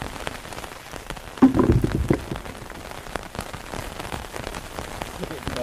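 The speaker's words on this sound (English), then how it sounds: "as you can probably see in here, it started to rain" Rain falls on a UK woodland hammock camp in a steady, close patter. A heavier burst of drops hits a surface early on, then the shower settles back into a constant hiss.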